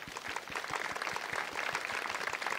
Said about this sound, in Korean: 우리 그분들께 한번 환영의 박수 한번 할까요?